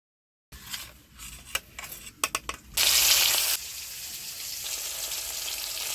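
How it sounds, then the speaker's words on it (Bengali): Chital fish frying in a pan, an uneven run of spoon clatter and crackling pops that gives way to a loud burst of sizzle, then a steady, quieter hiss of frying oil. "মাছ ভাজা হয়ে গিয়েছে"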